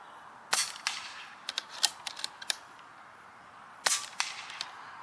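Umarex Notos G2 air rifle firing a string of shots, sharp snappy cracks spaced irregularly, each with a brief metallic click, fairly close over quiet background.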